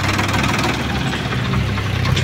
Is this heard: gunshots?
no